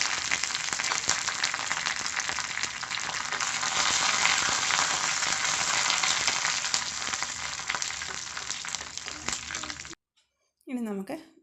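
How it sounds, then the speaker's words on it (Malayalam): Mustard seeds, red chillies and curry leaves frying in hot coconut oil for beetroot pachadi, a loud continuous sizzle with spattering crackles that cuts off abruptly near the end, followed by a short burst of speech. "ഒരു 1/4 ടീസ്പൂൺ കടുക് ഇട്ട് കൊടുത്തു. പിന്നെ ചുവന്നുമുളകും കരിയാപ്പിലയും."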